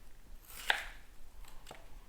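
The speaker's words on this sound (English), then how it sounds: "And we'll keep on chopping." Knife chopping vegetables on a cutting board while preparing crock pot red beans, with a couple of sharp, close chops in quick succession and no talking.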